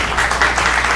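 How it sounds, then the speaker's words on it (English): Audience applause at a school board special meeting, a dense, steady wash of many hands clapping throughout, fairly loud and close with no speech over it. "That's fine if y'all want to clap"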